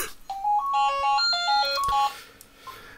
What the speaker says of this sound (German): Freizeichen ist da, es müsste funktionieren.